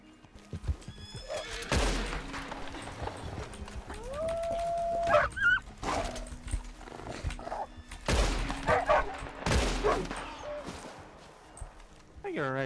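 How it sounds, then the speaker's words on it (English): Wolves howl in a RedM roleplay session of Red Dead Redemption 2, with rising drawn-out howls mixed with horse whinnies and clip-clopping hooves nearby, plus intermittent game sounds and background speech. "another wolf coming"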